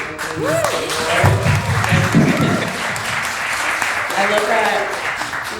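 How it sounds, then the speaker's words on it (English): An audience at a panel discussion with female cinematographers breaks into sustained applause, a dense wash of many hands clapping that holds steady, with a voice speaking over it at the start. "people are already starting to clap"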